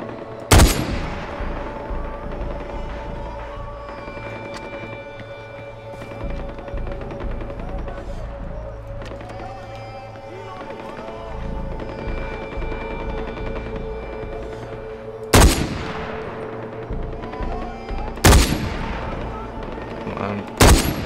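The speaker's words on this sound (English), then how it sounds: "there's always some crazy gun shit going on" Gunfire in Far Cry 4, a few loud, sharp shots standing out from a constant rumble of game ambience, clustered toward the end, with a voice talking underneath.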